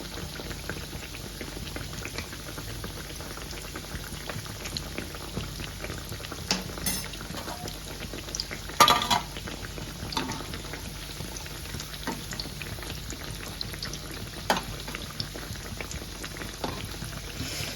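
Corn vadas (fritters) fry in hot oil with a steady, soft bubbling sizzle, close and fairly quiet, broken by a few faint clicks.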